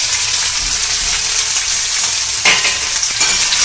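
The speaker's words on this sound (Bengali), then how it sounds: "এবার আলুগুলো কিন্তু দিয়ে দেবো" Potatoes drop into hot oil tempered with fenugreek for North Kolkata style singara filling, a loud continuous sizzle with brief scraping stirs near the end.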